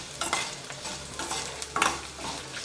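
Ginger and garlic sizzle in hot oil for a rose apple pickle, a close, steady frying hiss with a few scraping stirs of a spoon against the pan.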